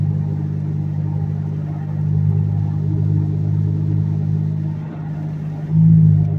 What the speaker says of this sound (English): sorry about the loud noise. I don't have an exhaust on here